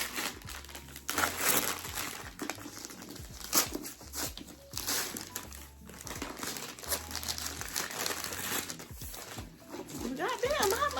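Wrapping paper crinkles and tears as a parcel holding a hardcover book is unwrapped, with repeated loud rustling bursts close by while a person talks over it.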